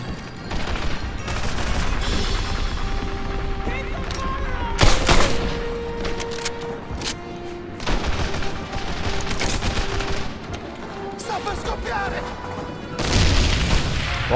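Gunfire in the World War II shooter Medal of Honor Airborne, rapid rifle and machine-gun bursts with heavy booms, loud and dense throughout, over steady in-game background noise and tones.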